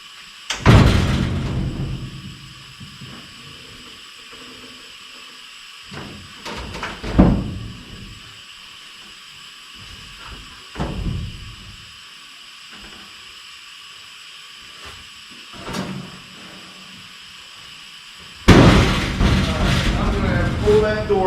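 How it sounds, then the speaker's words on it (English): Crew cab truck door being worked on in a shop, with scattered metallic clunks, bangs and handling thumps separated by quiet gaps, ending in a louder stretch of banging and movement. "Pull that door back off there, pull both hinges off, and slot the back side."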